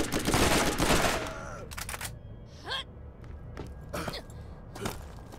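Gunfire in Borderlands 1 comes as a loud dense burst of rapid shots at the start, followed by a few scattered single shots and clicks that trail off, with faint voices underneath.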